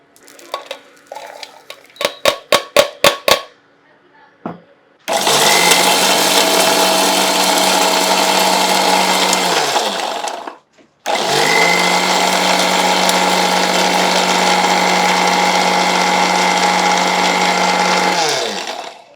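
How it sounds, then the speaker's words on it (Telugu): A kitchen mixer grinder whirs loudly in two long bursts, grinding roasted walnuts and almonds into powder, after a few sharp clatters of nuts being tipped into the jar; a brief pause separates the runs, with no talking. "మిక్సీ జార్ వేసుకొని"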